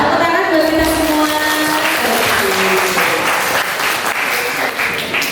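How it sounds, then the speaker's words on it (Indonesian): An audience at a vocational school event claps together, a dense, loud burst of applause that holds steady for several seconds before tapering slightly. "Tepuk tangan buat kita semua."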